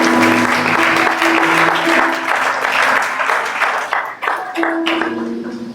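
A church congregation applauding loudly to acclaim Jesus, dense sustained clapping from a large crowd, with tonal voices or music sounding underneath and the applause easing slightly near the end.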